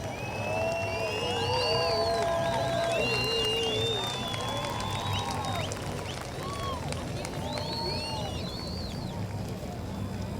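Outdoor crowd murmur at the All Souls Procession, a steady hubbub of many voices with scattered calls, whistles and bird-like chirps, continuous and fairly distant throughout.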